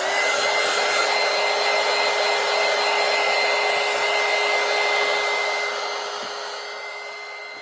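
Hair dryer blowing steadily on a collage poster, a loud continuous whooshing hum with a fixed motor whine that runs on alone, then drops slightly in level near the end.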